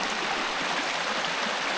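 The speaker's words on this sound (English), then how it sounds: "I don't think I could get across the river. It is actually quite high today" A river running high rushes past nearby, a steady broadband roar and hiss of flowing water that stays even throughout, with no speech.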